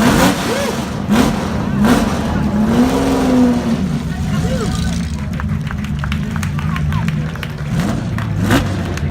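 A classic car engine revving up and down repeatedly at a car show, loud and close, with people talking and chatter in the background.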